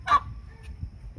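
A single honking gobble-like bird call rings out, followed by quieter clucks and shuffling; a White Holland turkey calling nearby.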